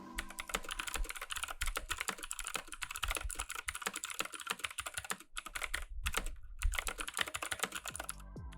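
Rapid, continuous typing on a Razer BlackWidow V3 mechanical keyboard, close-up clicky keystrokes with a faint metallic ping, brief pauses between bursts and no voices.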